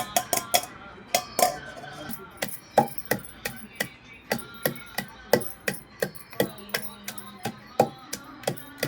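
Green chillies being pounded and ground in a stone mortar for a rustic chutney, a steady series of sharp, close knocks and rubs repeating roughly twice a second, with no talk.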